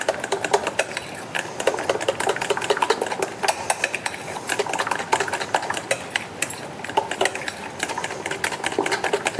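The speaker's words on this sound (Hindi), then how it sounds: "ये देखिए, इस तरह से फेंटते रहना है इसको।" A whisk or spoon beats thin rose cookie batter in a bowl, giving fast, continuous, rhythmic clicking and tapping against the bowl, close and fairly loud, with no voices.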